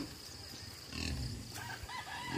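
Chickens cluck and a rooster crows faintly in a quiet, low-level background, the chickens kept indoors at a countryside home in the Philippines on a cold morning.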